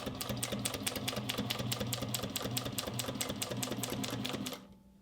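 A sewing machine runs a fast, even burst of stitches through a leather test piece for a two-toned boxy bag. The rapid mechanical clatter is close and steady for about four and a half seconds, then stops.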